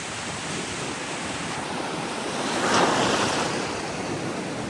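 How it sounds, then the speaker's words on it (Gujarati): Sea waves wash steadily onto the shore, a broad continuous surf roar that swells louder near the middle before easing, with some wind noise and no voices. "મોજા તો જોવો તમે યાર"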